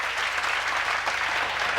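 Applause from a seated audience at a Tamil pattimandram debate stage event, a short burst of steady, dense clapping filling the hall at close range.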